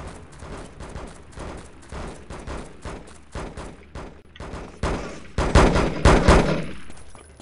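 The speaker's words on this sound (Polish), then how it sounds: "Słyszę jakieś strzały." Gunfire in the video game Devastation, with rapid bursts of shots repeating steadily and growing louder and denser toward the end, heard on its own with no talk.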